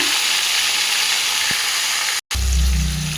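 Chicken pieces added to a hot pan give off a loud, steady sizzle and hiss that carries on throughout, with a brief cut near the end before the frying noise comes back.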